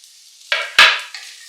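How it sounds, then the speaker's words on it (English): Onion, ginger and garlic fry in a pan with a couple of loud sizzling bursts as ingredients hit the hot oil and get stirred, then a steady softer sizzle continues. "Let's fry this for literally 2 minutes."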